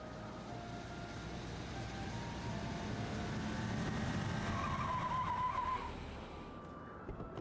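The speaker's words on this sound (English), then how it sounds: "Got the car moving." A car in Final Fantasy XIV drives with a steady engine drone and a brief high tyre squeal midway, fading out near the end, with no talk.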